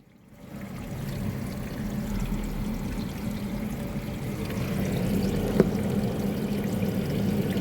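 Water pours steadily over a Chevrolet Impala trunk during a leak test, heard from inside the trunk as a continuous muffled rushing that swells slightly, with one brief knock near the end.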